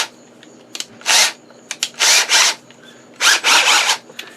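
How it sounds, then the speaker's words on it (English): An electric drill spinning a nail against a coarse nail file whirs in three short bursts separated by brief pauses and clicks, close and fairly loud, with a rasping edge. "So, I'm going to put it in a drill."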